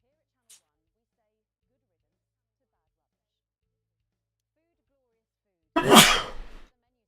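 A single loud, close sneeze bursts out after several seconds of near silence, preceded only by a tiny click.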